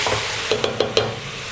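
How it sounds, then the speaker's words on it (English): Ginger, coriander stalks and garlic cloves stirred in a pan while making chicken stock, with a low sizzle under four quick scraping strokes of a utensil against the pan. "Next you'll add the ginger, coriander stalks and garlic cloves to the pan and give these a good stir."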